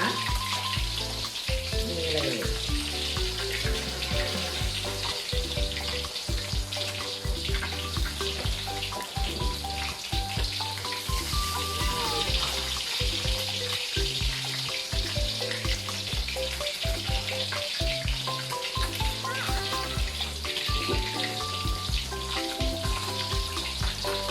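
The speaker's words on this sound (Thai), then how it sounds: "เราทอดได้สักพักหนึ่งแล้วนะคะ" Steady crackling sizzle of fish frying in hot oil, continuous and close, with faint clinks and no talking.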